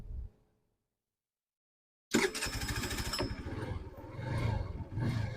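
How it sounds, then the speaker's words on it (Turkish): A brief quiet pause, then the 50cc engine of a Kuba Bluebird scooter sputters to life and settles into a steady, buzzing idle up close, with no talking. "Motorumuzda bir de çalışmasını da şu şekilde göstereyim"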